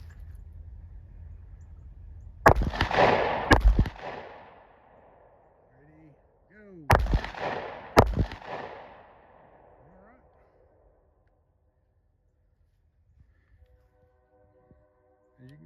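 A Glock 9mm pistol fires at target practice from 15 yards. Two pairs of loud, close shots ring out a few seconds apart, each trailing a booming outdoor echo, followed by quiet.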